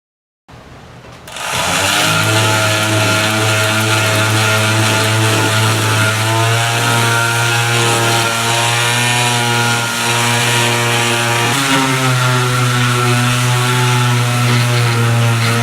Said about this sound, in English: an orbital sander with about 120 grit sandpaper on it, and I just wanted to make sure that I sanded all 6 sides